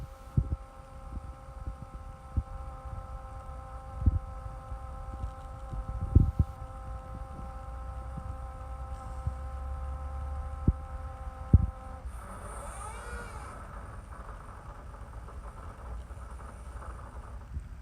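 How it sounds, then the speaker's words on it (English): A fuel pump hums steadily on a 2007 Ford E350 with the 6.0L diesel, a faint continuous tonal whine under the idle, punctuated by occasional sharp knocks and thumps, then wind rushing across the microphone near the end. "You can hear that fuel pump."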